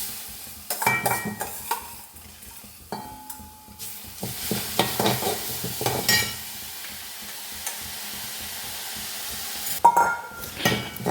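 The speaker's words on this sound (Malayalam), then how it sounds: "അതൊന്ന് ചൂടാവുമ്പോൾ നമുക്ക് ഈ കഴുകി വെച്ചിരിക്കുന്ന അരി അതിലേക്ക് ഇടാം കേട്ടോ." Washed rice dry-roasts in a hot iron wok, with close scraping stirs at an uneven pace and a light sizzle between them, and no voices.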